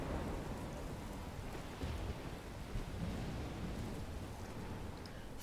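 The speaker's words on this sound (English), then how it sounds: "It's raining, it's pouring." Steady rain pours down in the Life is Strange video game, a dense continuous hiss with low thunder rumbling beneath it, evenly loud throughout with no voices.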